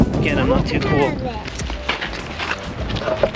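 Gusty wind buffeting a microphone outdoors in Canyonlands National Park during a storm, loud low rumbling in uneven bursts, with people talking over it.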